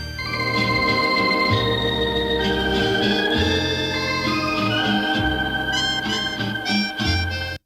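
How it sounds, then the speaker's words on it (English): Recorded music from 1947 carries a bathroom echo-chamber reverb, with sound reflecting off tile and picked back up by a microphone. Sustained tones and chords ring on continuously, giving a dense, washy tail throughout. "would reverberate off the tile and then be recorded back into that microphone"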